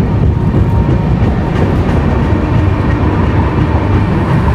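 The Shipra Express pulls into Bardhaman station, a loud continuous rumble and rattle of railway carriages heard from near the train door, with no talk.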